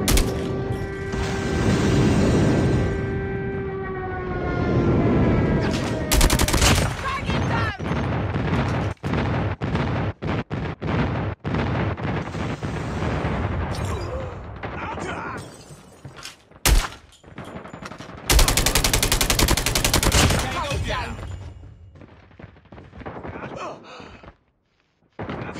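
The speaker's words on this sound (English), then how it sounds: "Enemy airstrike incoming." In-game airstrike in COD Mobile: a series of loud, sharp explosive blasts and crashes hit in bursts across the stretch, with a sustained roar of debris and gunfire between them and a brief voice callout near the start.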